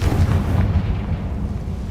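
A Confringo spell explosion in Hogwarts Legacy, heard as a single deep rumbling blast that swells at once and fades away over about two seconds, with no voices.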